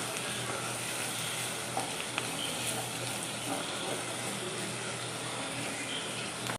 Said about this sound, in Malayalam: അതും കൂടെ ഞാൻ അതിനകത്തേക്ക് ഇട്ട് ഒന്ന് നന്നായിട്ടൊന്ന് മൂപ്പിച്ചെടുക്കുവാണേ